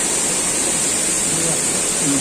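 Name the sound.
water of Siyadevi waterfall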